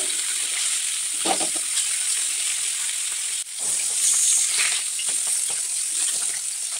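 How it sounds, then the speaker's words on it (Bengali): Turmeric-coated fish frying in oil in a pan, a steady bright sizzle with brief louder bursts of spitting as the pieces are turned. "মাছগুলো গায়ে হলুদ করে নিয়ে এখন ভেজে নিচ্ছিলাম উল্টে পাল্টে ভালো করে"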